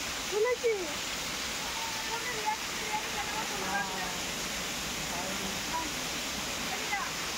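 A large waterfall in Purulia roars as a steady, broad wash of falling water, fairly distant and even throughout, with faint voices and calls scattered over it.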